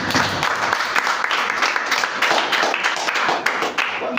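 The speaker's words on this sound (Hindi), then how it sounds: "पंकज बाबू के लिए जोरदार ताली पहले बजाइए।" A live audience at a stage event gives Pankaj Babu strong applause, dense continuous clapping from many hands, loud and sustained with no speech over it.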